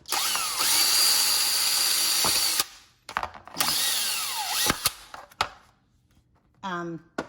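A power drill whines at high speed in two long bursts, drilling small holes in a sprouting tray, broken by clicks and short pauses, followed by a brief spoken remark.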